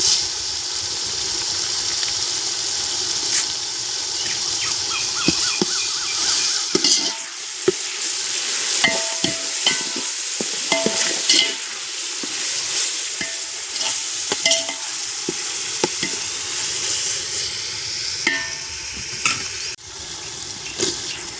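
Vegetables, tomato and garlic paste frying for vegetable biryani, with a steady loud sizzle under repeated scraping stirs and occasional clinks of a spoon against the pot, close up and continuous.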